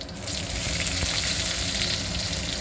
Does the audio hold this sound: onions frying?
yes